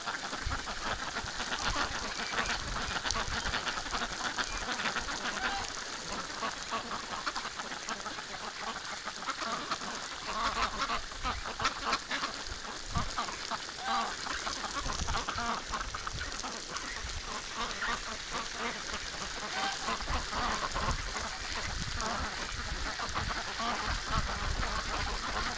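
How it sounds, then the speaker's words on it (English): Wintering ducks and geese quack and honk in a snowstorm around a running garden hose, a dense, continuous chorus of calls over a steady hiss. "Disco Duck's got a really nice crown on her head."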